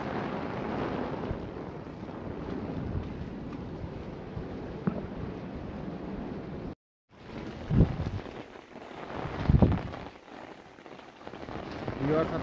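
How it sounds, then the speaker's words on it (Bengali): Heavy rain drums steadily on a rooftop in Dhaka, with gusts of wind buffeting the microphone and a brief dropout midway. "প্রচুর বৃষ্টি হচ্ছে"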